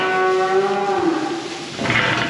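A cow moos loudly and close by, one long drawn-out call that falls in pitch as the herd is driven onto a lorry outdoors.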